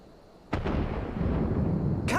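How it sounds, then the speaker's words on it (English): In the Final Fantasy 14 video game a cannon fires with one sudden heavy boom, followed by a long rumbling roll and a second sharp blast at the end, loud and close. "Cannon fire! Where did it come from?"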